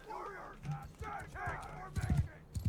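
Horse hooves in the video game Mount & Blade Bannerlord, a rhythmic clip-clop of a cargo horse's gait growing heavier and louder toward the end, with someone talking over it.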